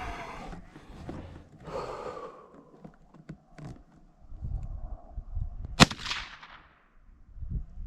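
A single sharp crack from a Savage B22 Magnum rifle, shot at a coin target outdoors, rings out near and loud, with quieter handling noises and breathing around it.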